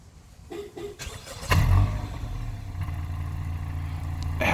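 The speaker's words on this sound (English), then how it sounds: "It has a nice deep exhaust for the fact that it's just a 4-cylinder." A 2016 Honda Accord Coupe with a 4-cylinder engine fires up by remote start: a sharp starter catch and brief rev, then a deep, steady exhaust idle rumbling close by.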